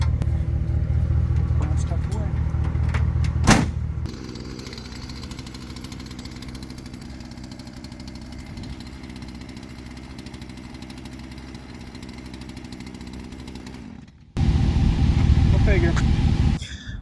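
A chainsaw engine fitted to a Power Wheels ride-on toy with a 3D-printed gearbox rumbles loudly and close, settles into a lower idle for about ten seconds, then roars back up near the end.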